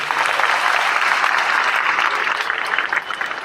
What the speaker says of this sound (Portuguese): pedindo uma salva de palmas para vocês por isso